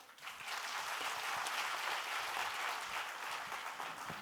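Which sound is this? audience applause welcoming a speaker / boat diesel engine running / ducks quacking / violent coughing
audience applause welcoming a speaker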